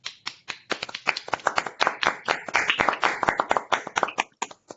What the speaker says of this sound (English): I would ask everyone to unmute themselves so that we can clap